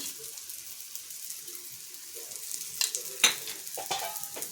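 Litti, a Bihari stuffed dough ball, fries in oil in a pan. A soft, steady sizzle comes up close, with a few sharper crackles and scraping stirs near the end.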